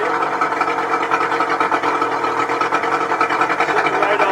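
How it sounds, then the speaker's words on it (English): An Evinrude 60hp VRO outboard engine idles steadily on its own, a close, even mechanical purr with a fast rattling pulse that holds level throughout. "But the engine is purring like a kitten."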